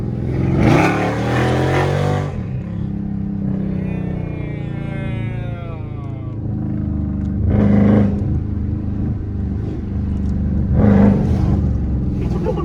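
A Scat Pack car engine drones and revs, rising and falling in pitch, with people talking over it close by.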